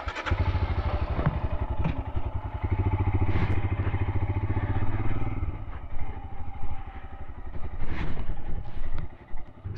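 Royal Enfield Scram 411 motorcycle on a rough unpaved road, its single-cylinder engine thumping loudly up close and rising and falling with throttle, with occasional clatter from the bumpy ride.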